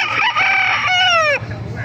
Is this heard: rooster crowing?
yes